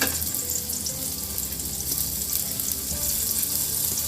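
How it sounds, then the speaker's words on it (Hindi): Paneer pieces fry in desi ghee in a pan over low heat, giving a steady, close, moderately quiet sizzle that runs unbroken with no talking. "इसको अदर बदलते हुए हल्का हल्का गोल्डन ब्राउन होने तक सेकेंगे"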